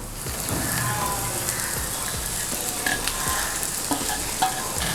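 Fried okra pieces and onions are stirred in a hot pan, a continuous loud sizzle broken by scraping spoon strokes and occasional sharp crackles.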